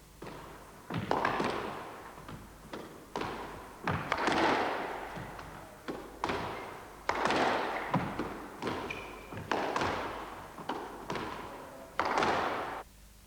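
Squash ball repeatedly struck by a racket in a rally, each shot a sharp thud with a hollow court echo, roughly one hit per second, close and loud with no talking.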